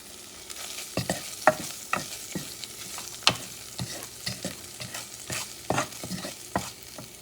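Onions and parsley fry in a pan with a steady sizzle, broken by repeated sharp scraping stirs at irregular intervals. The sound is close and alone, with no talking.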